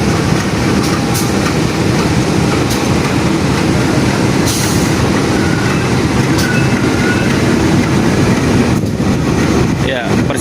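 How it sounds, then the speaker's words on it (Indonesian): A locomotive with a new-generation Pasundan passenger train rolls past loud and close, a continuous heavy rumble with rail clatter and occasional squeals, while a voice talks over it. "lokomotif yang akan berdinas di KA Pasundan"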